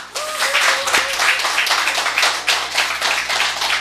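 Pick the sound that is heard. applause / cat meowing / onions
applause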